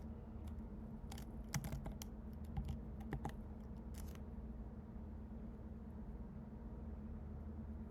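Soft computer keyboard typing while writing code for a Leetcode problem, a few faint scattered key clicks over a steady low hum, with no talking.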